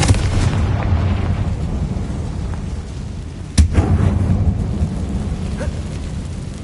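A Confringo explosive spell in the video game Hogwarts Legacy, a single sharp blast that cracks out of a low rumbling background, followed by a few smaller bursts and a dense lingering rumble.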